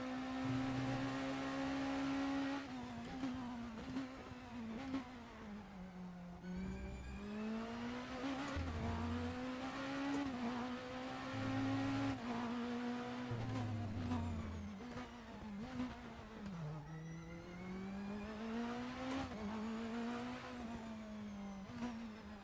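A race car in the RaceRoom racing game drones and revs steadily through upshifts and downshifts, with a constant high engine whine and occasional tire squeal, playing alone without talk.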